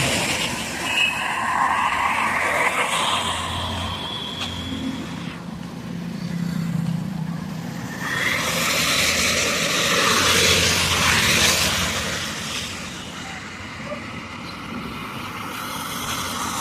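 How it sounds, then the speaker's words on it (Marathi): Morning road traffic in Chandrapur city flows past as a continuous broad rumble and hiss, with vehicles swelling louder as they pass close by and then easing off, and no one speaking. "ओनली ट्रॅफिक बघू शकता मित्रांनो"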